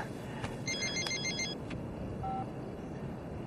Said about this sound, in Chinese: 哎，你的电话 啊。